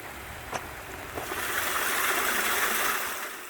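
Steady wash of a flowing stream blends with a soft patter of rain in a metasequoia forest, a continuous hiss that swells gently, with a couple of faint knocks.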